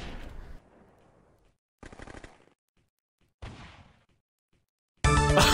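M1 Garand rifle fire in a video game: a few sharp, separated shots with quiet gaps between them, then a loud burst of firing at the end.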